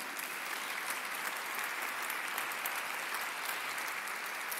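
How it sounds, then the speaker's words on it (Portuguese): A church congregation applauds during a Mass for the Presentation of the Lord, a soft, even patter of many hands that holds steady from start to finish without a break. "Pode aplaudir."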